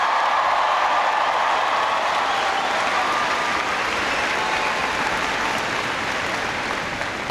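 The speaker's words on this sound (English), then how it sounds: "Please give Daniel a big round of applause for that great introduction." Loud, steady applause from a large crowd at the CU Events Center in 2012 fills the whole stretch as one dense, sustained roar of clapping with no voices on top.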